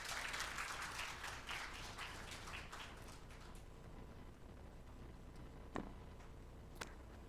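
Audience applause at the release of a preliminary census report, a dense roomful of clapping that starts strong and thins out over several seconds, with a couple of sharp isolated claps near the end.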